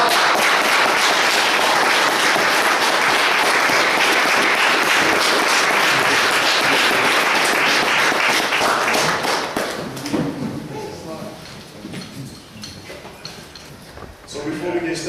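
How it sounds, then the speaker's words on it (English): Audience applauding for a speaker at a Moorish gathering marking Drew Ali Day, dense clapping for about ten seconds before thinning out, with voices mixed in. "please give a good applause for our good brother"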